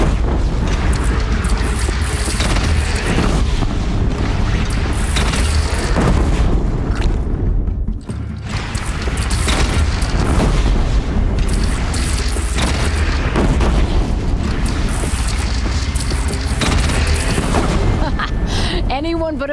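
Heavy cannon fire in Horizon Zero Dawn, with deep booming blasts layered over continuous loud battle noise and shouting voices throughout.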